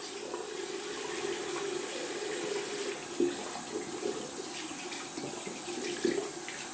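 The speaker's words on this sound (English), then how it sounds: "gonna rinse out the brush" A shaving brush with a dense synthetic knot is rinsed under a running tap, a steady close rush of water with a few splashy bursts as the brush moves through the stream.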